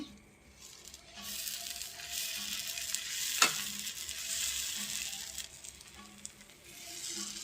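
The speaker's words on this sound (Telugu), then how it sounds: "దోశ వేసి" Lentil batter dosa frying on a hot pan, a steady close sizzle with faint stirring and scraping textures and a sharp tap midway, no voices.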